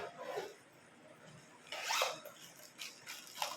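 A zipper is pulled open on the carrying bag of a Simpex VCT-899RM professional video tripod, giving a few short raspy zipping strokes at close range with soft handling noise in between.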